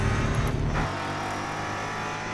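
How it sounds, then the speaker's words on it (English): A race car engine in the Grid Autosport racing game roars at full throttle, loud and close, with a brief dip in the first second before settling into a steady, sustained drone. "And it's back on full throttle."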